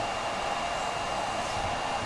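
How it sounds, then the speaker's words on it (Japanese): A hair dryer blows in a steady, loud, continuous rush of air with a faint whine, running unchanged from start to finish with no talk. "すごいドライヤー。"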